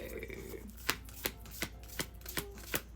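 Cards are shuffled and riffled in a quiet room, with sharp snapping bursts spaced at a steady rhythm.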